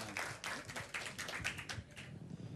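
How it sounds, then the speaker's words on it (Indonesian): A small group clapping hands at a breakdance session, a quick scattered run of claps, fairly faint and close, with no voices over it. "Tepuk tangan dong."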